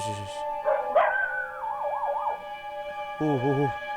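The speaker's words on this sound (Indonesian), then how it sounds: "Tapi pada takut gitu ya, anjingnya pada ini ya, gonggong ya" Frightened dogs barking outdoors at night, a few sharp barks and wavering howl-like yelps close by, with a siren-like wail rising through the middle.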